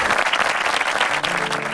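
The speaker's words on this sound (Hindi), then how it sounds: "जोरदार तालियां हो जाए प्लीज IPS संजय सिंह" Loud, close applause for IPS Sanjay Singh from an audience, a thick continuous clatter of many hands with a faint hum under it.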